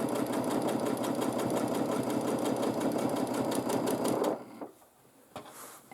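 A sewing machine quilts a sinusoidal wave pattern edge to edge across a scrappy quilt, running as a steady, rapid, close stitching whir for about four seconds before stopping, followed by faint handling noises.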